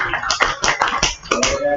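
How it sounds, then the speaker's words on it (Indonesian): Audience at a school management event applauds, a short burst of dense close handclaps lasting under two seconds. "Bisa tepuk tangan dulu."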